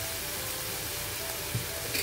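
Tomato and turmeric mixture frying and sizzling in a pan while being stirred, a steady close hiss with a soft scrape near the end.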